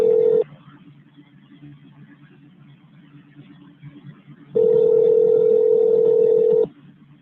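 Steady telephone line tone held on a call being transferred to a police shift commander, a short burst at the start and a longer one for about two seconds later, with quiet line hiss between.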